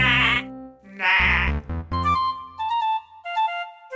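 A goat bleats several times in a row, loud and near, with wavering, nasal calls separated by brief silences.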